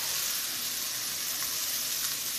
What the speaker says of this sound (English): while they're still frying